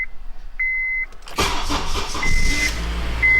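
A car engine cranks and catches after a few electronic beeps, then settles into a steady idle close by, with no talking over it.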